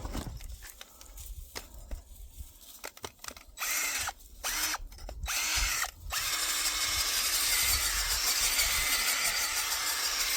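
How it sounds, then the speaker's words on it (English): A power auger bores into hard frozen ground, its motor whining in short uneven bursts at first and then settling into one loud sustained drilling roar, close by. "Ground is hard here. She's frozen. So I gotta help my auger a little bit too."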